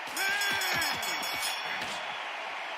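A crowd at a boxing video game murmurs and reacts with disapproval after a draw is declared, a broad wash of voices under a commentator.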